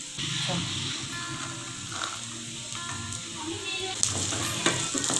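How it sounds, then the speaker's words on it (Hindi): Peas tipped into softened onions frying in a pan, giving a steady sizzle with stirring clatter and a few sharp bursts, loud and close for the whole stretch. "प्याज मेरी सॉफ्ट हो चुकी है, अब मैं इसमें मटर डाल दूंगी"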